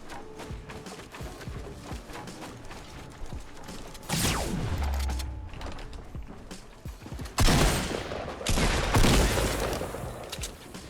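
Gunfire in a Fortnite Battle Royale match, with bursts of broadband shots and louder nearby blasts toward the end amid mechanical game clatter, no talking.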